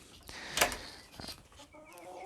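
Small ornamental chickens cluck in a partitioned cage, with a few short, faint clucks and squawks close by in a quiet space.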